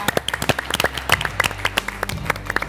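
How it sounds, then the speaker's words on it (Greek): A studio audience at a Greek talk show claps in a quick burst of sharp, scattered handclaps that carry on steadily throughout, close and moderately loud. "Έλα, ένα χειροκρότημα."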